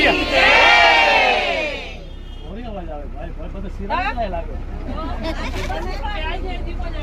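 A bus full of pilgrims loudly chants praise of Vadvadi Manidhar Mangal Mata in a dense, roaring group cry, then breaks into shouting and excited chatter inside the moving bus.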